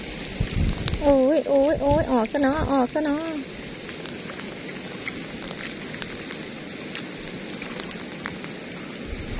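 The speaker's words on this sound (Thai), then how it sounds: "บรรยากาศกระส่งฝนสิลงมาอีกแล้วพี่น้องเอ้ยแบบหนาวสุดสั้นกับกลับแหละ" Rain falling in cold weather in rural Isan, northeastern Thailand, a steady hiss on the surroundings throughout, with a voice calling out exclamations over the first few seconds.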